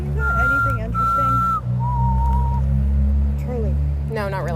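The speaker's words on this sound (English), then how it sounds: "Someone's whistling." Someone whistles a few sustained notes nearby, clear over a steady low engine hum, with voices talking briefly toward the end.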